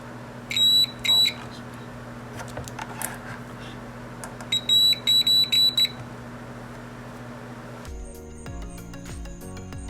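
Multimeter in continuity mode, checking motherboard power phases, gives two bursts of short high electronic beeps over a steady hum, then a different tonal electronic signal near the end.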